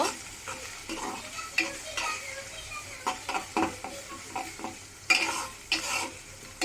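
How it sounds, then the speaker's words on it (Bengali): Onions frying with ginger and garlic in a pan, stirred with a utensil that scrapes and clinks in irregular strokes over a steady sizzle, close and moderately loud. "একটু নেড়ে দিব।"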